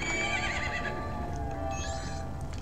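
A horse neighs and whinnies in The Legend of Zelda: Majora's Mask, a loud, drawn-out call with clip-clopping hooves mixed in, standing clear with no talk over it.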